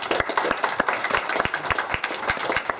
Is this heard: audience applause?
yes